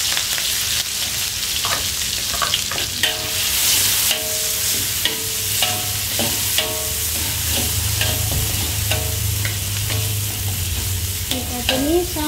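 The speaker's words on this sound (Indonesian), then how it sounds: "lanjut kita tumis bumbu yang sudah kita ulek tadi ya" Ground spice paste for tempe sautéed in a pan, a steady loud sizzle under repeated scraping and stirring strokes of a spatula, close up and without talk.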